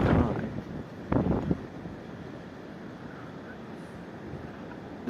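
Strong gusts during a severe thunderstorm buffet the microphone, with two loud rushing bursts early on before settling into a steady, lower roar of wind.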